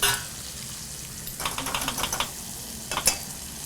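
A spoon stirring a tablespoon of Dijon mustard into a dish, a few quiet clustered scraping and clicking strokes in two short bursts against a soft background hiss.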